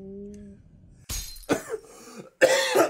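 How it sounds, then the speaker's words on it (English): A sick person coughs three times, harsh and close, each cough a short burst separated by brief silences, after some quiet game sound at the start. "I'm a little bit sick, guys, so I'm sorry for the coughing."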